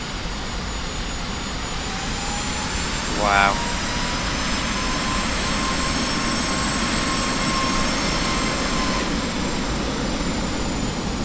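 Carenado Falcon 50 jet engines in the X-Plane 11 flight simulator give a constant broad roar with a thin high whine, while a voice briefly exclaims partway through.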